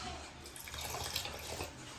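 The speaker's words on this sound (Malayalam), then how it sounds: "ഇനി ഇതാ നമ്മളെ ഇളനീരിൻ്റെ വെള്ളം കുറച്ച്" Tender coconut water poured into a strawberry drink mix, giving a steady, close splashing trickle with no speech over it.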